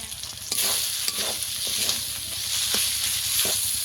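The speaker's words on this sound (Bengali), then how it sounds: "দিয়ে ভালো করে একটু ভেজে নেব" Tomato with turmeric and chili powder frying in a pan, a loud, close, steady sizzle with a few brisk stirring scrapes, no voices.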